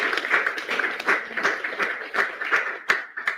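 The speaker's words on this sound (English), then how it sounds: "give yourself a round of applause" A crowd at a post-Cabinet government media briefing applauds steadily, with many hands clapping together in a dense, sustained burst for a few seconds.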